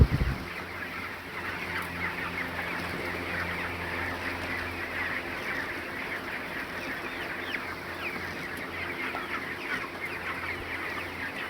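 Broiler chickens in a hot-weather poultry shed, a steady dense chorus of clucking and calls from a large flock, close and continuous with no talk.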